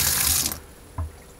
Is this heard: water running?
yes